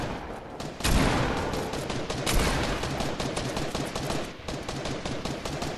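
Rapid gunfire in the Fortnite video game, with a loud opening burst followed by dense, repeated shots crackling close by in an uneven volley.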